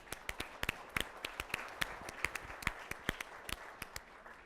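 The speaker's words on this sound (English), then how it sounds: "I want to applaud all of you" A small audience at a client economic outlook event gives scattered, faint handclaps, individual sharp claps spaced irregularly across a quiet room.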